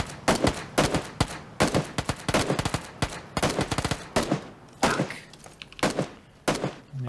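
Gunfire in the game PUBG, loud and close, coming in rapid bursts and clusters of sharp shots separated by short pauses, repeating throughout without any speech.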